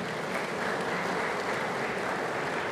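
Sunday school congregation clapping together in church, a steady continuous patter of many hands at moderate distance with no pauses.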